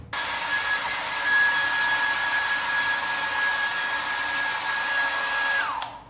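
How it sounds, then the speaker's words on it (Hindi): A handheld hair dryer blows hair upward in a home styling session, giving a loud, steady airy roar with a thin whine that runs for several seconds before switching off, with no talking. "मैं ना ड्रायर ऑन कर लेती हूँ"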